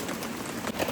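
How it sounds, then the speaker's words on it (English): Steady rain patters on surfaces at a riverside in Jamaica, a continuous soft hiss of drops close by. "since the rain is coming back down,"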